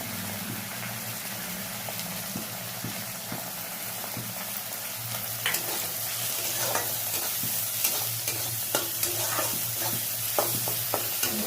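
Onions fry in a pan with salt and turmeric for a tilapia curry, a soft steady sizzle broken by occasional spoon scrapes and stirring clatter that grow more frequent later, with no one talking.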